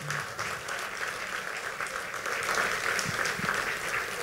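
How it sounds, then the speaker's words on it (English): An audience at a volunteer awards ceremony applauds a group of nominees: dense, continuous clapping from many hands, moderately loud and sustained with no break. "Round of applause."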